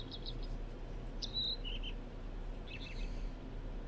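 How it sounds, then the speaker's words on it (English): Small birds in The Crimson Maid game world give a few brief, high chirps and twitters, faint and scattered over a constant low ambient hum. "Birds."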